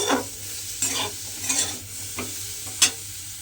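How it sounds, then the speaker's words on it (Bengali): Ingredients for a Pars fish dish being dry roasted in a pan without oil: about five sharp scraping stirs against the pan over a faint, dry sizzle, close and distinct with no voices. "আমি কিন্তু এটা এইভাবে একটু শুকনো খোলায় ভেজে নেব"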